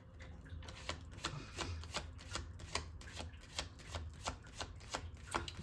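Tarot cards riffled and handled in a steady run of soft, crisp flicks and slaps, close and fairly quiet, with no voices over them.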